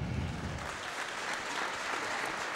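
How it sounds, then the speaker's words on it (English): A large crowd applauds a gold medalist at a national swimming championship, continuous dense clapping filling the pool hall at close range and steady throughout. "That's a massive round of applause for our gold medalist, Gemma Lowe."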